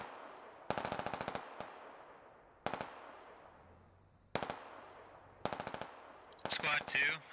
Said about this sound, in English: they're just trying to provide cover fire